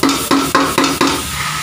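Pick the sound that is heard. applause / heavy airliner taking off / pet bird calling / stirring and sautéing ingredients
stirring and sautéing ingredients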